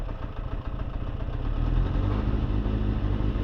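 A 1991 Kawasaki ZXR400 that has sat unused for three months catches and settles into a steady idle, its close engine rumble rising and then holding a dense, slightly clattery drone, with no voices.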